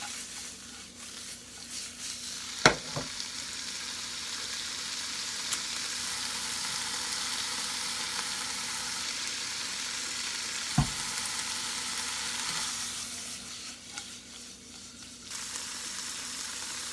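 Mushrooms fry in a pan for turkey stuffing, giving a continuous loud sizzle throughout with two sharp utensil knocks and light stirring.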